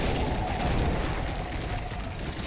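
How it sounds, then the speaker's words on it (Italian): Deep, rumbling explosions from a crab enemy in Dark Souls III roll out loud and sustained, filling the whole stretch with a heavy, continuous boom. "E invece fa le esplosioni"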